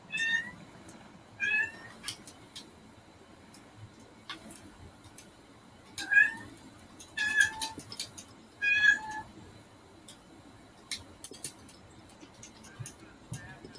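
A cat meows several times, the calls clear and fairly close, coming in spaced bursts over a quiet room with a soft ticking in the background and a person speaking now and then.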